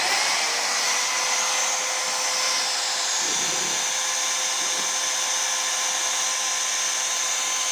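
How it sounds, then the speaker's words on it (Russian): A drill press motor whirs in a steady, loud, continuous hum while drilling, with a faint dip in the middle but no clear breaks or voices. "Давайте покажу, как он сверлит."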